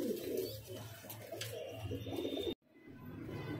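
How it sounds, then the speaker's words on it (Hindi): Pigeons cooing softly in a low, rolling murmur, close by, with a brief cut in sound partway through. "बहुत से कबूतर हैं"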